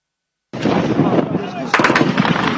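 Gunfire during a security forces' crackdown on pro-democracy protesters in Bahrain: sharp repeated shots burst in loudly after a moment of silence, with a denser, louder volley later amid crowd noise.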